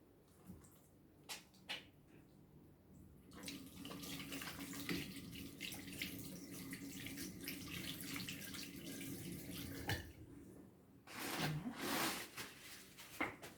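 Tap water runs steadily into a sink during handwashing for a clinical exam, with a few knocks and clatters before and after the flow.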